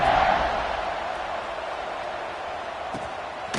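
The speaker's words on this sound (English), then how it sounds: "this crowd is buzzing after that last score" A football stadium crowd roars and buzzes after a touchdown in a Baylor game, a steady wash of loud distant cheering that swells at the start and then holds.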